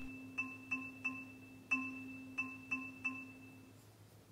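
A maths app plays a 2 against 3 polyrhythm as a series of soft, bright electronic beeps in two interlocking pulses over about four seconds, faint and clean, with no voices.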